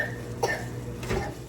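A sick toddler with flu and fever coughs twice in quick succession, close and fairly soft, with faint room noise between the coughs.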